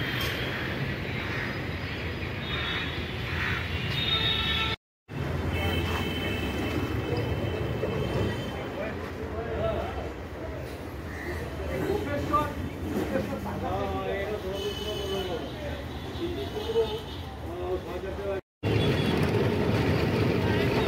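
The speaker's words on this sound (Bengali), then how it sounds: "চারটে বেজে 15 ট্রাম ছেড়ে দিল আমাদের টালিগঞ্জ ডিপো থেকে।" A Kolkata tram pulling out of Tollygunge depot on its run to Ballygunge, with a rumbling, rattling rail-car din, two brief dropouts and voices murmuring in the background.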